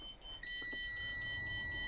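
RV dashboard warning beeps right after the ignition key is turned on: a single steady electronic tone held under a second, close and moderately loud over a quiet cabin.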